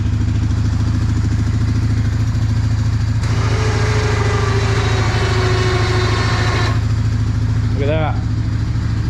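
A small engine idles steadily and loudly throughout with a constant low throb while a 2500 lb winch lifts a plow, a rising whine appearing midway and a brief squeal near the end.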